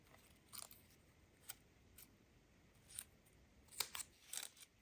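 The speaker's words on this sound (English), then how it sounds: "So that means I need to cut these so that I have petals." Scissors cutting paper into petals for a junk journal flower: a handful of soft, close snips and crisp paper crunches at an uneven pace, clustered toward the end, in an otherwise quiet room.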